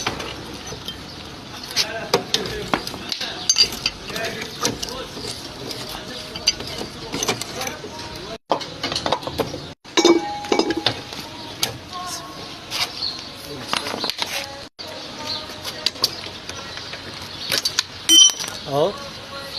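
A mechanic removes the front wheel of a tuk-tuk that has a broken axle and a worn bushing, producing scattered light metallic clinks and taps close by, mixed with ongoing talk and faint background noise.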